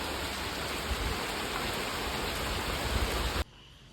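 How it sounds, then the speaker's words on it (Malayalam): Heavy rain pours down in a dense, even hiss of falling water that holds steady for several seconds and then cuts off abruptly, with no voices. "ഇന്ന് ഭയങ്കര മഴയും."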